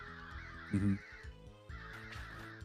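Crows caw in a dungeon crawler video game, harsh calls over a droning, tonal game soundtrack, with one louder burst near the start and more fainter caws after it.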